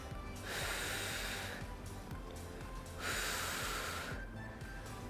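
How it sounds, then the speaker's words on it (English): Steady, audible breathing during a seniors' cardio and balance workout, two long airy exhales swelling and fading over a constant low rhythmic beat of background music. "Exhale, inhale."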